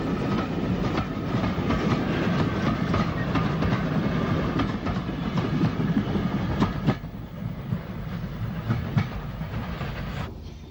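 A British Railways passenger train runs on the Isle of Wight line near the road bridge at Wroxall, heading towards Ryde, its steady loud rumble and clickety-clack of wheels on rail joints filling the scene, easing slightly toward the end.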